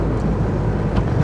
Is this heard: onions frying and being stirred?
no